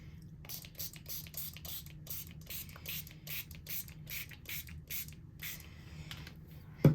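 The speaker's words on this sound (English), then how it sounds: "Now this piece, we're going to go ahead and spray it again." A handheld spray bottle mists a watercolor butterfly painting in about a dozen quick, hissing squirts in a steady rhythm, close and fairly quiet against a soft background hum.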